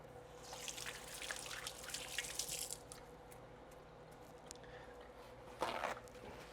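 A thin trickle of water splashes into a bowl for a few seconds, followed by quiet drips and a brief clatter near the end.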